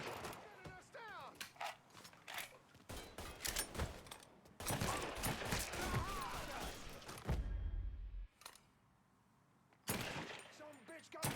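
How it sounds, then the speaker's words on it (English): Rapid bursts of automatic gunfire and scattered shots from the video game Mafia 3, loud and dense, broken by short pauses, with excited voices talking over parts of it. "Shooting us down!"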